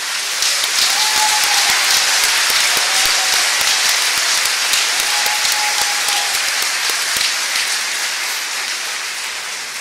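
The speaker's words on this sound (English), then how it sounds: "So let's give them a round of applause." An audience at a Marshalltown Community College commencement ceremony claps for the graduates, thick continuous applause from a large crowd, loud and steady, tapering a little toward the end.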